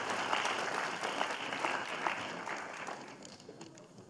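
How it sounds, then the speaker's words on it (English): A crowd applauds the judges at a national schools moot court event, dense clapping holding strong before gradually thinning and fading toward the end, with faint murmurs underneath. "Give them a round of applause."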